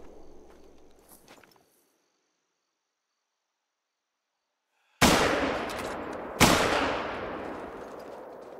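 Two sharp, loud rifle gunshots fired at an animal in TheHunter: Call of the Wild, about a second and a half apart, each with a long ringing decay, following quiet ambient outdoor sound and a stretch of silence.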